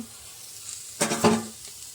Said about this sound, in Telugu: మన క్యాబేజీ అయితే లైట్గా ఫ్రై అయింది కదా కొంచెం అయితే మగ్గింది